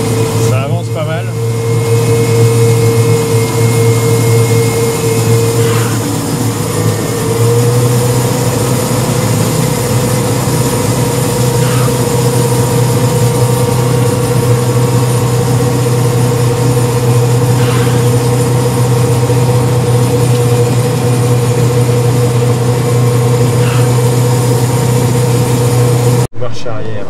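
A Valtra N174 tractor engine drones steadily during snow silage work, a loud continuous low hum with a constant tonal whine and faint intermittent clanks, running unbroken until it cuts off near the end.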